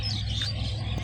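Birds chirp and tweet in a Bangladeshi village at evening, light overlapping calls over a low steady background hum, with no voices.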